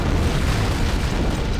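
Antimatter charge exploding aboard a ship in Halo CE Revolved, a heavy, loud boom with a dense rumbling roar that fills the whole short moment without letting up.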